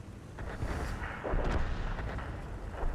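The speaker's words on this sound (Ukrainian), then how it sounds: "Тут арта ще дістає." Artillery fire in the tank game World of Tanks: a dense, rumbling barrage of booms and blasts rolls on continuously at moderate loudness for three seconds, with no voices.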